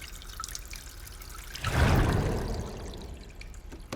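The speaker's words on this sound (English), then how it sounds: "open that one and drain water into this holding tank" Water drains from a canal lock into a holding tank, a rushing surge that swells suddenly and then gradually eases, heard over steady trickling and dripping.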